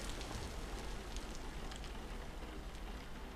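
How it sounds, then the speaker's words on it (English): Rain falling in the video game Vintage Story, a steady, even hiss of drops pattering on surfaces, faint and continuous with no talk. "oh, it hasn't stopped raining"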